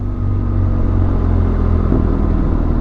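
A BMW motorcycle engine drones steadily at close range on a club ride, a constant low rumble with a slight shift in pitch partway through as the bike rides on.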